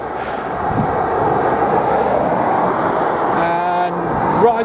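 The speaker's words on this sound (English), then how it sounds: "Noisy, windy, busy with traffic." Heavy traffic rushing past on the busy A6 main road between Bakewell and Matlock on a windy bank holiday, a steady loud roar with a passing vehicle's tonal whine near the end.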